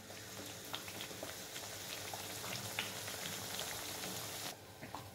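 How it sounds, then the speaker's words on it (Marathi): Puris deep-fry in hot oil in a kadai, making a faint, continuous bubbling sizzle dotted with tiny pops, heard from a little distance. "तेल गरम झाल्यावरती पुरी सोडून छान तळून घेऊया."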